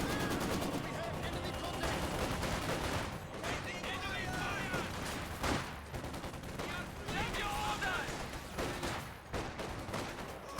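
Volksgrenadier rifle fire in a Company of Heroes 2 battle, dense, continuous crackling gunfire mixed with battle noise, sitting under an ongoing commentator's voice.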